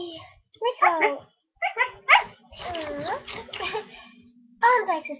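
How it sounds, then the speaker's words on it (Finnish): A dog makes short yipping, whimpering vocalizations between animated bursts of close conversation, with a voice among the talkers. "Hei, koira!"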